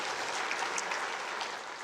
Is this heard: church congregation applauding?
yes